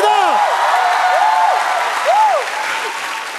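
A studio audience at a KBS Gag Concert comedy taping applauds loudly, with rising and falling whoops and cheers riding over the clapping for a few seconds.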